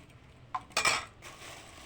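Cutlery clinks against a plate during a home meal, a few quiet, brief metallic taps and scrapes in a hushed room.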